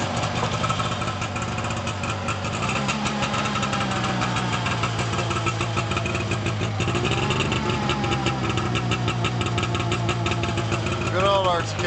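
1989 Arctic Cat Jag 340 snowmobile engine idling on its first start of the season, a steady rattling two-stroke chug with a few revs, close and loud, while people talk over it.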